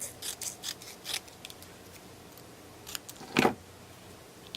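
Scissors snip a paper craft tag with a quick run of short cuts, then a few separate snips and one louder, longer cut, close and otherwise quiet.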